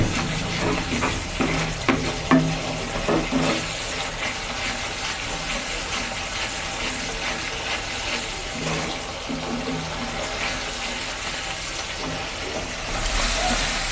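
Spice paste for duck egg curry frying in a pan, stirred and scraped with a spoon: a continuous hiss and sizzle with rhythmic scraping strokes, close and moderately loud, without speech.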